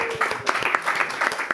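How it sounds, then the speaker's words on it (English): A short burst of audience clapping for the youth at a climate adaptation event, brisk and moderately loud, with distinct hand claps over a soft crowd patter. "a round of applause for the youth in the audience"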